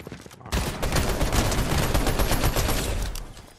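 Dense, sustained Fortnite gunfire fills the clip: a loud, continuous stream of rapid shots and impacts that starts abruptly after a brief quieter lead-in and runs without talk.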